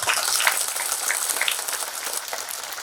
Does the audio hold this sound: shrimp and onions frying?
no